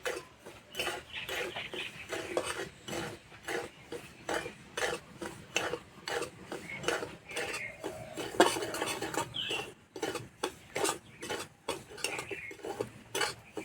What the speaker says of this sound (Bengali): সুজি হালকা করে ভেজে নেব।